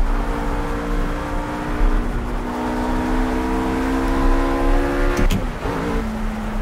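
A RUF RGT 8 engine in the Project CARS racing game on the Eifelwald circuit holds a steady high-revving tone, then shifts pitch sharply near the end. It is loud and continuous, with no talking.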